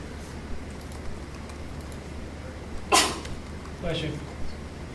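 A single sharp sneeze bursts out in a quiet room, followed a second later by a softer, smaller sneeze or snort, against a low steady background hum.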